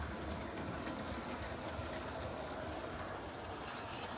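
A Bachmann K3 model locomotive runs over diamond crossings on a layout, producing a quiet, continuous rolling rumble with soft, rhythmic clicks of the wheels over the rail joints.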